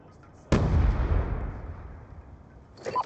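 A sticky grenade detonates in Call of Duty Search and Destroy, one sudden heavy blast with a deep booming body that rolls and fades over two seconds, close and loud, followed by faint game noise.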